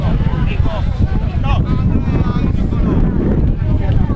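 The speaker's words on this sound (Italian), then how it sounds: "Aspetta che cali il vento." Strong wind blows across an open rugby field in Olbia during an under-14 match, a loud constant roar buffeting the microphone with no clear talk.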